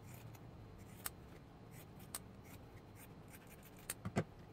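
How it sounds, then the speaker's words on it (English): Faint, sparse snips of scissors trimming the fabric seam allowance and corners of a sewn luggage tag, a few isolated cuts over quiet room noise. "you can trim the seam allowance and chop off the edges, especially in the corners"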